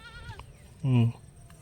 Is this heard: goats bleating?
yes